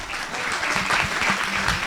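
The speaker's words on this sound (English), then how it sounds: "Give round of applause." Audience applause at a temple community volunteer appreciation event, steady dense clapping from a crowd that holds level through the whole stretch, with faint voices underneath.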